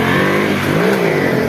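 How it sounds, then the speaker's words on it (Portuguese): A motorcycle with engine noise revs hard as it rides off, a loud, steady, close engine roar with a slight rise and fall in pitch throughout. "agora a moto tá andando"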